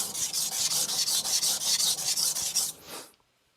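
An Aogami 2 steel bunka knife being thinned on a Shapton Glass 220 grit stone, about a dozen quick rhythmic rasping strokes close up, ending abruptly in quiet.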